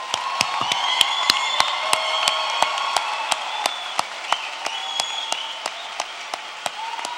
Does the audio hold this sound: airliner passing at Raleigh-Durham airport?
no